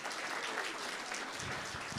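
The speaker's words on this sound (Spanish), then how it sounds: "vamos a dar fuertes aplausos" Church congregation at a Sunday worship service applauding a music group, a steady, dense wash of many hands clapping throughout, fairly distant and even in level.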